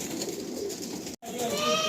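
Pigeons coo steadily in a loft, a continuous layered murmur broken by one short silent gap near the middle, with brighter tones rising toward the end.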